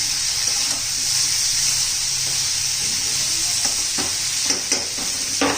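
Green chillies and potatoes fry in hot oil in a pan with a steady, close sizzle throughout, broken near the end by a few clinks and scrapes of stirring; no one speaks.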